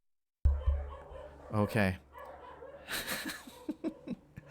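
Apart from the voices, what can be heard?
dogs barking outside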